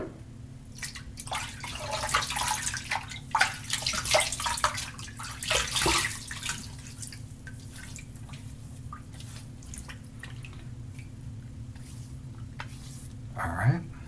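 Tap water runs and splashes while a person wets their face at a sink, a steady wash of water with drips and irregular bursts, heard close and continuous throughout.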